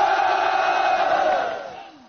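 Audience applause and cheering break out at a military New Year variety show, welcoming visiting performers. The crowd noise is loud and sustained, then tails off over about two seconds.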